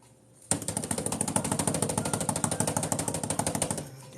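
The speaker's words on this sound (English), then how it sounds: "You guys hearing me clean my brushes" Paint brushes being cleaned in a container during an acrylic painting session, a rapid, steady rattling clatter that starts abruptly, runs loud and close for about three seconds, then stops.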